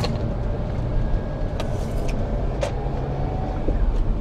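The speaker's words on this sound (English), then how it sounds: "There's a car, so I won't." A passing car heard from inside another car, with a steady broadband road and engine rumble that stays loud and even and shows no clear swell or fade.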